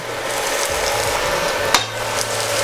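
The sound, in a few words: zucchini being added to a pan with tuna pasta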